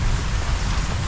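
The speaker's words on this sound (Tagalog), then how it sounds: "umpisa na po ang ulan" Steady rain falls in a broadband hiss with low rumble, continuous and fairly loud throughout, during a storm evacuation in Talisay, Batangas.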